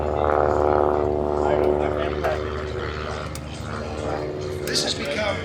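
Propeller airplane performing at the Miramar air show, a droning engine with strong harmonic tones that fades over a few seconds while people talk nearby.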